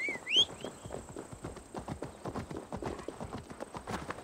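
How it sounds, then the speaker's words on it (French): Horse hooves clip-clop at a steady walking rhythm in Assassin's Creed Valhalla, close and moderately loud, with a short chirpy cry near the start and no speech. "J'ai toujours un bruit de cheval."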